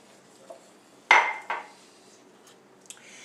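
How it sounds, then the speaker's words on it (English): Utensil clinking against a pot while shredded sharp cheddar is stirred in, a few sharp metallic taps and scrapes, loudest near the middle, with quiet gaps between. "I'm just going to stir it in slowly"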